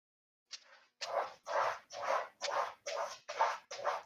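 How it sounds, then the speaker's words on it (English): A dog lets out a short whimpering yelp and then a run of seven sharp, evenly spaced barks, close and loud in a quiet room. "That was a dog."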